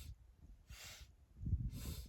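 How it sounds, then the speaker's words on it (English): Rhythmic nasal sniffing breaths drawn in and pushed out through the nose during a kriya breathing exercise, two short bursts close and fairly quiet with soft low rumble between. "it's that sniffing in and out through the nose"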